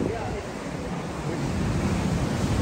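Rough ocean surf roars steadily on a windy beach, a dense, continuous wash of breaking waves mixed with buffeting wind across the microphone.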